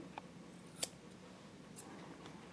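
Grooming scissors trim a Maltipoo's coat in a few quick, faint snips, one sharper cut standing out in a quiet room.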